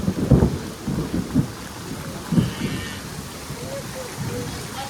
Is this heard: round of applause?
no